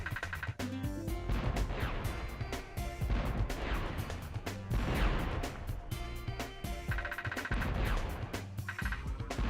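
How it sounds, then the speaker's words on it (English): A cannon firing repeatedly in Spyro: Year of the Dragon, with sharp booming blasts and crashes recurring in quick succession over a busy layer of game music and effects. "Cleared away with this cannon, but it doesn't even cannon shoot straight."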